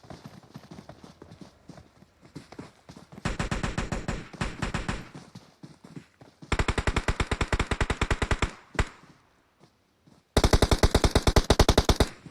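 Rapid bursts of automatic gunfire in a competitive team video game scrim, loud volleys of dense rattling shots in three long bursts separated by lighter scattered shooting and pauses, no talking.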